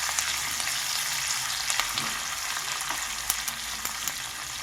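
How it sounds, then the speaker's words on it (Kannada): Curry leaves frying in hot tempering oil for bisi bele bath, a steady crackling sizzle with scattered sharp pops and occasional stirring clinks, close and continuous. "ಕರಿಬೇವಿನ ಸೊಪ್ಪನ್ನು ಕೂಡ ಹಾಕೊಂಡಿದ್ದೀನಿ. ಚೆನ್ನಾಗಿ ಫ್ರೈ ಮಾಡ್ಕೋಬೇಕು."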